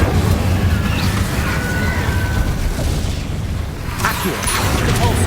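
Incendio fire spell cast in the Hogwarts Legacy video game, a loud continuous fiery burst and crackling roar that dips briefly near the end before surging again.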